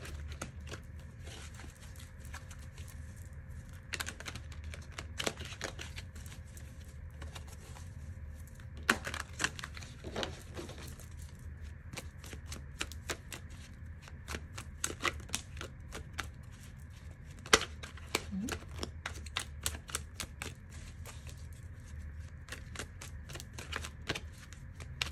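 Tarot cards are shuffled and drawn in a pick-a-card reading, a steady run of dense, crisp riffling and flicking taps lasting many seconds, close and moderately loud, with no one speaking.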